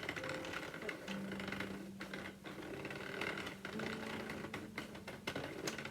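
A Sentro knitting machine cranked by hand, giving a continuous whirring, clattering mechanical run with a faint tonal hum, close and steady without speech.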